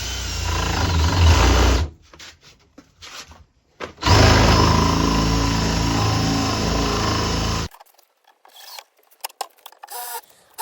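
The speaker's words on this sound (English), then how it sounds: "I'm now drilling the holes so that the bird can safely get through without any hassle." Power drill boring holes into recycled pallet wood for a birdbox: two sustained, close whirring bursts of a couple of seconds each, separated by quieter handling knocks and clatter, with no talking.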